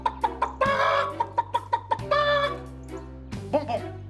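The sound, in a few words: person imitating a hen clucking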